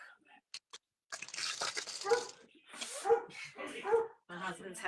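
Indoor dog barking in a series of sharp barks and yips, close and loud, with a person talking around the barks.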